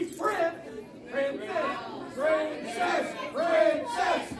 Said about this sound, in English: the crowd here in Nanton, showing Highclass absolutely zero respect, chanting princess as the bell sounds